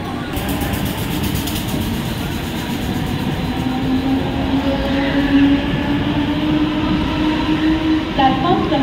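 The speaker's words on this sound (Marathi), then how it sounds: "प्लॅटफॉर्म क्रमांक 1 वर आलेली लोकल 7:07 ठाण्याला जाणारी हिमी लोकल" A Mumbai local train stands at a platform, its steady loud rumble and hum filling the station under a station announcement and crowd murmur.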